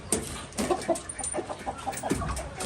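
A rooster clucks in short, repeated bursts while being given its feed, with scattered scratchy rustling between calls, fairly close and moderately loud.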